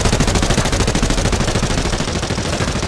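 Weapon firing fully automatic in Arena Breakout Infinite, a very fast, steady stream of close, loud shots held for about three seconds without a break.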